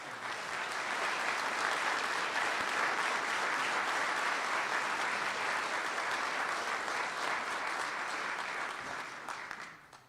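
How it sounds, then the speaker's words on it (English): Sustained audience applause at a mayoral inauguration ceremony, dense and steady for about nine seconds before thinning out and fading at the end. "So a round of applause,"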